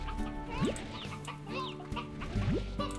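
Chickens in the video game Slime Rancher cluck in short bursts, with a couple of higher squawks rising over a low game backdrop.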